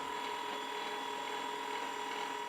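A CNC guitar pickup winder spins a coil at 1,200 RPM, giving a steady, even mechanical whir with a sustained tonal whine that holds level throughout.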